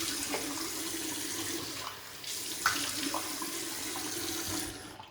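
Tap water runs steadily into a sink to wet the face before a shave with Barrister's Reserve Cool soap, a continuous splashing hiss at moderate level with a small clink partway through and no talking.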